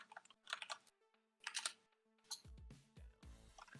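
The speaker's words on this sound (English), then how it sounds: "I'm gonna start typing this into there again." Fingers tap on a computer keyboard in quick irregular bursts of clicks, close and fairly quiet, with short pauses between runs of keystrokes and a few heavier thumps near the end.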